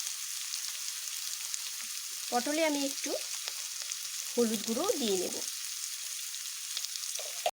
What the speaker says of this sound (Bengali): এইভাবে আমি ভেজে নেব পটলগুলোকে